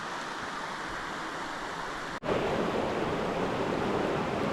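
Mountain water rushes continuously down a rocky slope toward a large tarn, a broad steady roar of flowing water, briefly cut off midway then returning louder and closer.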